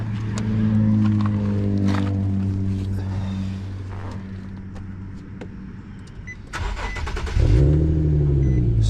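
An Infiniti G37 car engine cranks and turns over, then settles into a low rumbling idle that briefly revs higher toward the end.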